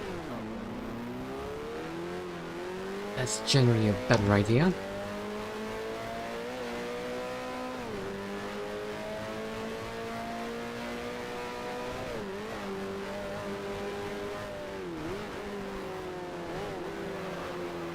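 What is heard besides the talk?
race car engine revving on a downshift, F1 Challenge video game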